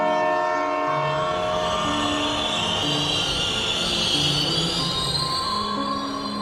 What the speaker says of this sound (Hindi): ट्रेन स्टेशन पर आकर रुकी।